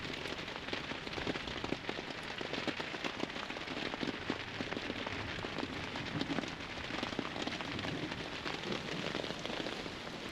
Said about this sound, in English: This isn't rain, it's full-blown atmospheric revenge.